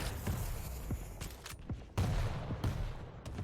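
Railgun fire and combat in a Quake Pro League match: sharp shot cracks over a constant dense rush of game noise, with a couple of strong hits about a second apart.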